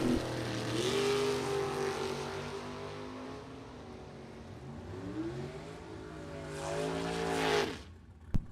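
Drag race cars, a Chevy Nova against a Chevy Monza, roar down the strip with rising and falling engine revs across gear changes, loud and sustained, ending in a sharp bang.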